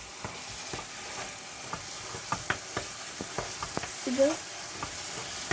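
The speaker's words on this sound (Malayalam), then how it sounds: "ഇത് കുറച്ച് ഇളക്കിയായിരുന്നേ." Garlic pickle being stirred in a pan, a spoon scraping and clicking in short irregular strokes over a soft background sizzle, with a brief word spoken once.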